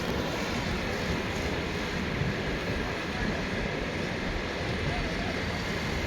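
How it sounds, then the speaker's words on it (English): Wind blows hard across an open coastline where blokarts and a STOL aircraft are about, a constant loud roaring rush buffeting close to the microphone for the whole stretch with no clear breaks. "The wind blowing into our face."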